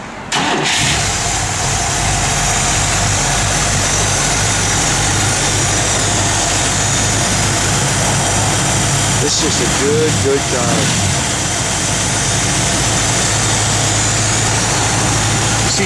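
A 1964 Buick Riviera engine idles steadily and loudly throughout, a constant low rumble with a brief voice speaking over it midway.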